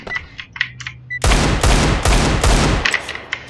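Loud bursts of rapid gunfire in a video game, several rattling volleys in quick succession after a short stretch of quieter clicking.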